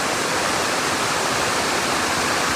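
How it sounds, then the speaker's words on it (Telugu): A waterfall on the Netravati Peak trek gives a dense, unbroken roar of falling water, loud and close, with no voices over it. "ఇంకా వాటర్ ఫాల్స్ వచ్చినాయి."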